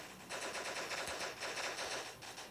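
Rapid automatic gunfire from the video game Block Strike in a zombie survival match, a dense continuous burst of close, loud shots lasting a couple of seconds with no talking.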